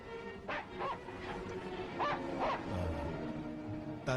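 A dog in a Hindi-dubbed fantasy film gives several short bow-wow barks and yips at irregular intervals, close and moderately loud, with whimpering tones and some background sound.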